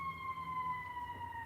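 An emergency vehicle siren wails as it passes, a sustained tone that slowly drifts downward in pitch, fairly faint and distant over a low traffic rumble, with no voices.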